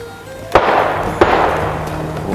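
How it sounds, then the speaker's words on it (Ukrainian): Two sharp gunshots about half a second apart ring out at some distance over steady background noise, during a hunt with hounds. "Нарешті постріли, що сполошили нас всіх після декількох хвилин заспокійливої тиші"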